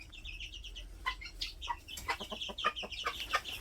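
Half-grown chickens on an earthen dirt floor cluck and chirp in quick, overlapping bursts, several birds calling close by with short sharp notes and no one talking.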